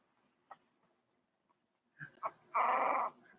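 A small dog growls and grumbles, a few faint short noises followed by a louder close growl and a sustained rough vocalization near the end, with no talking.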